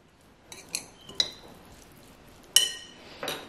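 A knife chops celery on a cutting board for a keto chicken and walnut salad, giving a handful of sharp, separate clinking strikes with pauses between them, close and fairly quiet.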